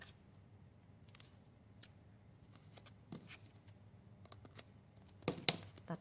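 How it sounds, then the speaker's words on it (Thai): Scissors snip through plastic drinking straws in a quiet room, with a few sparse crisp cuts spread out and a quick cluster of louder snips near the end. "ตัดหลอดทิ้งหน่อยนึง"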